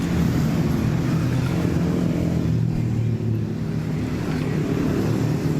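Heavy holiday traffic of cars and motorcycles on the Pantura highway makes a continuous low rumble of engines and tyres, with a steady drone and passing vehicles blending together and no speech.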